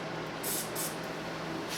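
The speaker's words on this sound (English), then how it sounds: "just spray the back of the switch" Contact cleaner sprays onto the back of the volume control switch of a Luxman LV103 hybrid amplifier during servicing, a steady close hiss with a few brief louder bursts and no talk.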